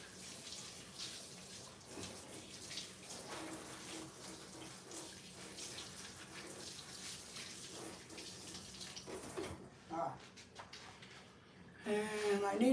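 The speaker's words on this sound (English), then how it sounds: "I got to wash my hands," Kitchen tap running steadily for hand washing, a close, continuous hiss of water with splashing changes as hands move under it, ending with a brief clatter.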